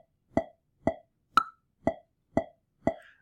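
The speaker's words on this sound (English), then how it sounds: "Now, if I hit the record, you're going to hear the metronome." Recording software metronome ticking six evenly spaced clicks about half a second apart, one higher-pitched accent click among them, clean and close with silence between.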